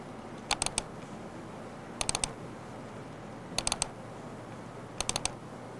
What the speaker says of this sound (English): We use the double-clicking procedure to open the remaining group windows.